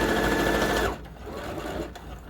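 A sewing machine stitches around the border of a fabric mask with a loud, steady mechanical whir that stops abruptly about a second in, leaving quieter handling noises and a faint click.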